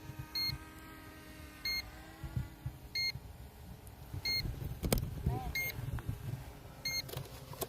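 A drone controller emits short, high electronic beep pairs at a steady interval of roughly one per second, clearly audible over wind, handling noise and occasional voices nearby.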